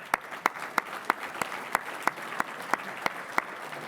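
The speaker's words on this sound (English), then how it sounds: "A big round of applause for them." An audience at an awards banquet applauds, with one nearby clapper's sharp, evenly spaced claps standing out over a softer spread of clapping behind.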